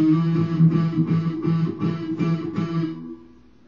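A guitar chord strummed repeatedly in an even rhythm, about seven strokes, then the ringing cuts off abruptly as the strings are muted.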